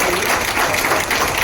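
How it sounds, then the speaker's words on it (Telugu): Crowd applause welcoming Minister Ponnam Prabhakar at the Kia Seltos launch in Somajiguda, a dense, loud, continuous clapping from many hands filling the whole moment. "మరొకసారి గట్టిగా చప్పట్లతో వారికి స్వాగతం తెలియజేస్తున్నాము"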